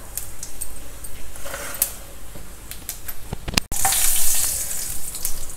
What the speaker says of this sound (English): added a spoon of oil, then add some mustard seeds, add some urad dal, one dry red chilli, a little bit of hing powder